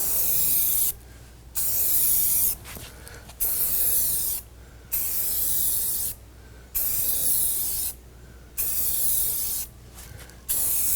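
An aerosol can sprays paint along the edges of a Rock-Ola Jump Bug arcade cabinet in six close, loud hissing bursts of a second or so each, separated by brief pauses.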